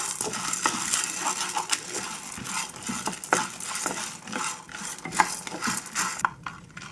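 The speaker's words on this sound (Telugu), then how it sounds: "పచ్చిశనగపప్పు వేసాక కూడా చక్కగా అటు ఇటు తిప్పుకుంటూ నిదానంగా ఫ్రై చేసుకోవాలి" Chana dal is stir-fried slowly in a pan, with repeated close scraping and rattling of a spatula against the metal as the lentils are tossed back and forth, and no talking over it.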